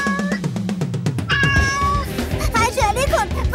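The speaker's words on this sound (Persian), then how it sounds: "یک گربه چاق گنده" A big fat cat in an animated Persian story meows repeatedly and loudly, a string of drawn-out, wavering cries packed close together.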